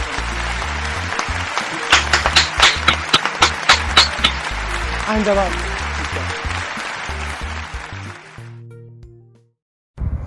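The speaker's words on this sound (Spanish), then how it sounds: "Un aplaudiment." Applause fills a graduation ceremony for a 4th-year ESO class, dense and steady for about eight seconds with voices talking over it, then cuts off abruptly into near silence.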